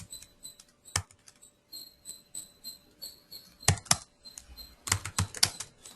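Java code being typed on a computer keyboard, bursts of quick clicking keystrokes with pauses between, close and crisp, a few heavier key strikes standing out.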